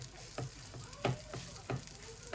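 Onions frying in oil for chilli turkey wings, stirred with several distinct scraping strokes roughly every half second over a steady close sizzle, no talk.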